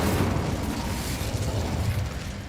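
In the Hogwarts Legacy video game, an Incendio fire spell is cast, producing a loud, sustained roaring burst with a deep rumbling body and no talk over it.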